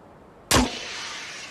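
A single sharp gunshot fired in a VR escape game set on a doomed balloon, a loud close crack at once followed by a lingering ringing decay that fades slowly over the following second.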